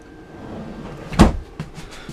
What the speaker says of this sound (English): Full extension drawer glides here in the bedroom for the two large drawers.